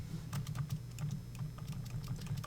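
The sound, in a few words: typing Control F on a computer keyboard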